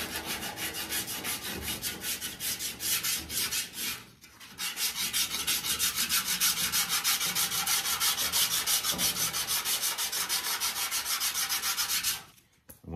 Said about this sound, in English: I'm gonna find my dents by blocking over it